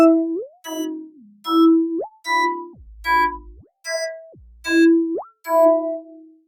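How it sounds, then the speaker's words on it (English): Spacey synthesized vocoder bleeps in the style of Space Laces, eight or so short tonal blips with sliding pitch glides and plopping, boingy bends, spaced in a bouncy rhythm, close and clear with no voices. "that kind of like weird, spacey, toppy, weird sound"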